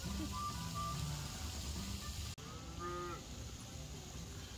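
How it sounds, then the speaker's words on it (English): A cow moos at a ranch open day, a drawn-out lowing call heard at moderate distance over background music and crowd ambience. "Did I hear a moo from you?"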